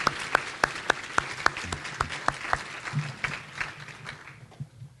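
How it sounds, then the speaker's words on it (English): Audience applause for the speakers at the close of a Kadlec heart-health talk: a burst of sharp, distinct claps from a modest crowd that thins and fades out over about five seconds, with no talking. "I just want a round of applause for our speakers for sharing their time today with us."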